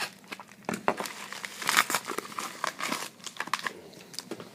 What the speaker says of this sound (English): Throw these envelopes over here.